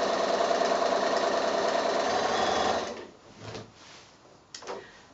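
A sewing machine runs at a steady, loud whir while stitching binding onto a quilt for about three seconds. It then stops, leaving quiet handling noises and a brief click.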